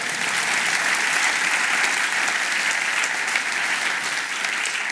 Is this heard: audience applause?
yes